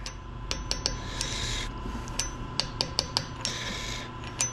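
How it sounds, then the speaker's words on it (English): A hammer taps a part into place during lathe repair, giving sharp metallic knocks in an irregular sequence of single and paired strikes over a steady shop hum. "So tap it on in there."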